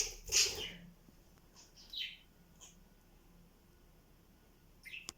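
A budgerigar gives a few sharp chirps, scattered with quiet gaps between them, close by and fairly faint.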